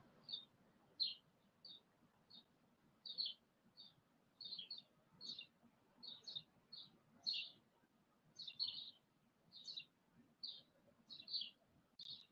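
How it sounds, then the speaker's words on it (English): Small birds chirp in short, high, repeated notes scattered at an irregular rhythm over a faint low background rumble, fairly distant and quiet, with no talking. "These birds then came following me again."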